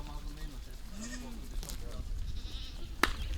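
Goats and sheep bleat on a farm, with a few wavering calls near and far over background talk and outdoor noise, plus a sharp click near the end.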